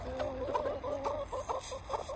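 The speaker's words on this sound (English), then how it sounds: "Chickens want to come back in." Backyard hens being let back into their coop cluck in a few soft, short bursts nearby, low and fairly quiet over a faint background hum.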